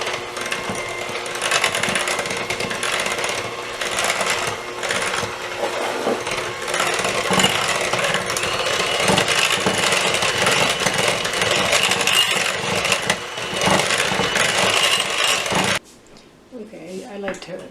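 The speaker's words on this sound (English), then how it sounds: "just take your mixer, electric mixer" An electric mixer whisks pumpkin pie filling in a bowl, a steady loud whirring drone running continuously before cutting off abruptly near the end, leaving quiet room sound.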